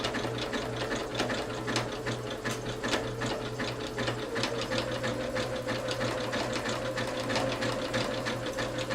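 A sewing machine stitching a purse, running steadily at close range with a fast, even mechanical chatter and a low motor hum throughout, no talking.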